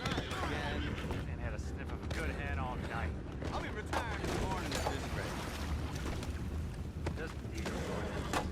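A horse neighs repeatedly in the video game Red Dead Redemption 2, high whinnies over clip-clopping hooves and a busy, noisy scene, with voices talking at times.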